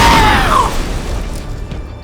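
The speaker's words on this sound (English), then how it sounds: "How annoying is it when one of your co-workers is killed in a fiery explosion?" A fiery explosion kills a guard in the video game Splinter Cell Conviction: a loud, close boom that opens at full force and fades into a long rumbling decay.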